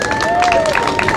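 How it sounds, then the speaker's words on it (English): A crowd at a county youth-program event gives a short burst of applause with a voice sounding over it. "All right, give these young people another round of applause."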